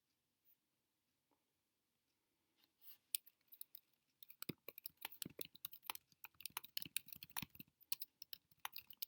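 Computer keyboard typing, starting with a few isolated clicks and then a rapid, steady burst of keystrokes, close and fairly quiet, with no talking.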